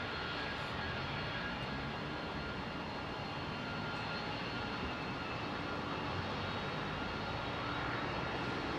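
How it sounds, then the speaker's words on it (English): A Singapore Airlines Airbus A380 at London Heathrow, heard as a steady, broad jet-engine roar that holds at an even level throughout without a break, fairly distant and with no voices. "Listen to those engines."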